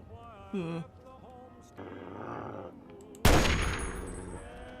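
Gunshots in Fallout 3 fired to shoot off a lock: tonal game sounds first, then a sudden sharp loud blast at the end that rings out and decays.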